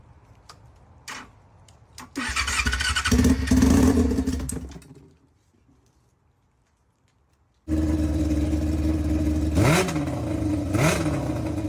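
A Yamaha R6 sport motorcycle engine idles and revs nearby, with loud bursts of throttle, a pause of near silence, then a steady running drone with two quick rising revs.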